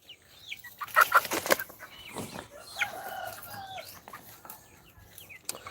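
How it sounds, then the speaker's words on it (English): Chickens cluck on a small farm in Aklan, Philippines, with several birds giving sharp, overlapping calls and a brief flurry of flapping wings, close by at moderate volume. "Come here, chicken."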